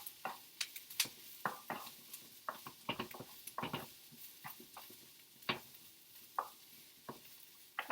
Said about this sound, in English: Also going back to stir my onions and broccoli.